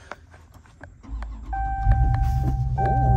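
A Dodge Charger Widebody Swinger Special Edition starts up with a low engine rumble that swells into a steady, throaty idle, after a few faint interior chimes and clicks.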